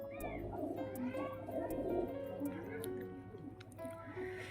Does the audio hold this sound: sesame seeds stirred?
no